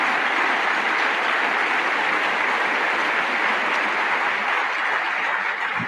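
Audience applause at an annual meeting: dense, steady clapping from a large crowd, loud and unbroken throughout with no voices rising above it.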